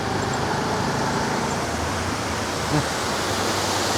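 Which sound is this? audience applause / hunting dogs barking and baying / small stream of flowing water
small stream of flowing water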